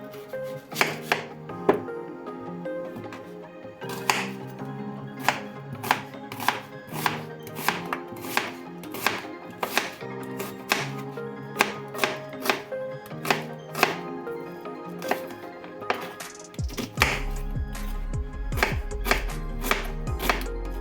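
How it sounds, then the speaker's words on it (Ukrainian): Rapid, crisp knife chops through two large onions on a cutting board come in uneven bursts, close and clear, ending with a low rumbling hiss. "Перш за все нарізаю дві великі цибулини."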